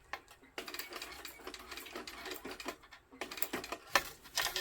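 A sewing machine stitches a leather backpack seam in quick, close bursts of rapid needle clatter. There are short pauses between runs.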